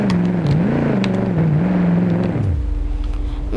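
A Mercedes car engine accelerates while driving, holding a steady climbing tone for a couple of seconds before the pitch drops away to a lower rumble; close and loud, with no talking.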